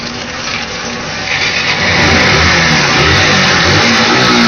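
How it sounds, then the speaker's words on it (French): A small motorbike engine revs, its mid-pitched drone swelling louder and holding at a strong, steady roar with no voices over it. "François, il a une petite moto"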